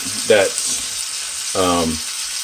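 A leg of lamb steak sizzles and fries in a pan with butter, a loud steady hiss close by, with two brief voiced sounds over it.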